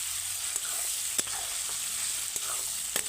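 Meat sizzling as it fries in hot oil in a home kitchen, a steady soft crackle broken by a few sharp pops and stirring clinks, with no talking.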